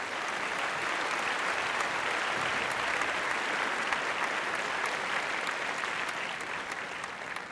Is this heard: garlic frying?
no